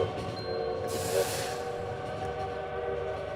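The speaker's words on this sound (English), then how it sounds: "at this point, I just hear the train" In the Lobotomy Corporation video game, a train rumbles on steadily, with a brief hiss and horn-like tone partway through and no talking over it.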